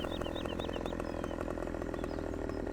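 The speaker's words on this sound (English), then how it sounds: "So, let's put our chainsaw away." A chainsaw cuts a tree in Farming Simulator 17, a steady, buzzing engine drone held at constant loudness with a faint high whine over it, no voices.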